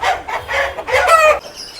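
A 16-month-old black rooster of about 4 kg, held at a Nellore poultry seller, calls out in one close, loud burst of crowing and clucking lasting over a second, with no talk over it.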